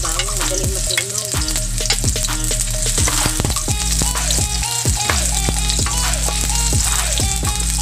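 Onion sautés in a hot pan for a Filipino fried tilapia dish, giving a loud, continuous sizzle. Repeated scraping strokes of a spatula stir through it, and nobody speaks.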